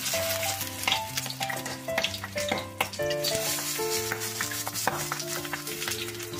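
Chicken paturi wrapped in banana leaf sizzles and crackles steadily in hot mustard oil in a frying pan, a continuous close frying hiss under background music.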